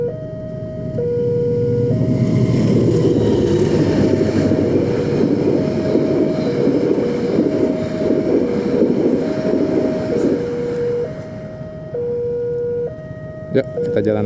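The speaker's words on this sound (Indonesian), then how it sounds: "ini kereta mau lewat" A train passes near Bragahan, Kediri, in East Java: a loud, steady rumble fills about eleven seconds alongside sustained, stepped horn-like tones, then eases off into quieter traffic noise.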